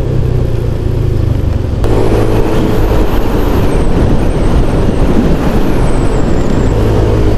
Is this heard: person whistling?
no